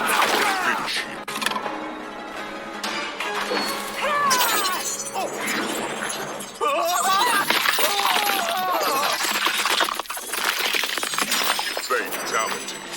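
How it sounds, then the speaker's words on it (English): Gory katana finishing move from the fighting game Mortal Kombat 1, a dense mix of shattering, slicing and crunching impacts with layered effects, continuous and loud for the whole stretch, with brief voice sounds mixed in. "this is probably one of the best katana fatalities they've done in a while"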